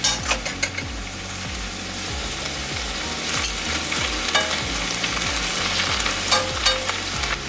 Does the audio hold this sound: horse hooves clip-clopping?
no